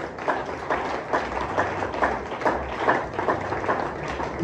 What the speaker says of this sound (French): Est-ce que tu peux applaudir la parole de Dieu?